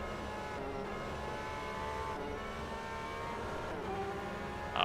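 GTE race car on Road America in rFactor 2 drones with a steady, high-revving engine held near full throttle, dense harmonic whine dominating throughout, loud and close with no talking.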